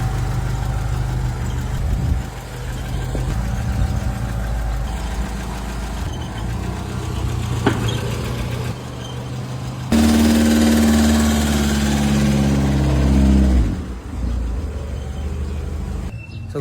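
A service vehicle's engine idles steadily at close range while warming up, a low droning rumble with vibration, swelling louder partway through before easing back to a calm idle.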